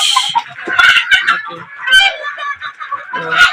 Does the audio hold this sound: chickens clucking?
yes